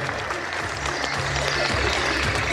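Steady audience applause fills a hall at a sports awards gala in Lubawa, a continuous wash of clapping at moderate level, with faint voices mixed in beneath.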